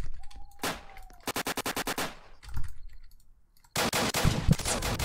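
Gunfire in the online survival game Apocalypse Rising: rapid bursts of automatic shots in tight, evenly spaced runs, loud and close, broken by short pauses and a couple of separate heavier shots, with no talking.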